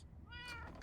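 A house cat meows once, a clear drawn-out call rising close to the listener over a low background hum.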